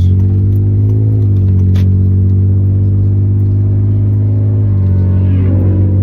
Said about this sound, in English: Popping wheelies and shit. I don't even know if that was a street legal bike.